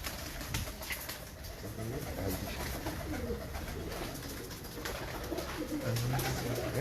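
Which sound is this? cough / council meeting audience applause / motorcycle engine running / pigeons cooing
pigeons cooing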